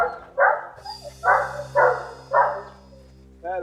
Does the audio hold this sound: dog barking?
yes